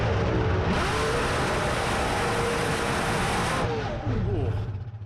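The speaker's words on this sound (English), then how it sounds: "Carl Boniface, unfortunately, looks like that car's taking a bit of a ride in the burnout." A nitro funny car revs hard during a burnout at Meremere Dragway in New Zealand. The engine roar is loud and sustained, broad and raw, and then cuts back. A commentator's voice runs over it.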